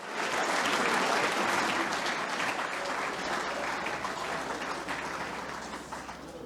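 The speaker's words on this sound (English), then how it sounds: "A very warm round of applause for our second Hall of Fame inductee this evening, Michael Mandalis" A large banquet audience at a football awards night applauds a Hall of Fame inductee, dense and sustained clapping that starts full and slowly eases over several seconds.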